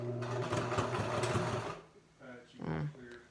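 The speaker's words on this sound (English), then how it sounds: "I'm just sewing it down as close to the edge as I can." A sewing machine stitches a fabric face mask close to the edge in a quick, steady whirring run, then stops, followed by a short second burst with a voice speaking briefly near the end.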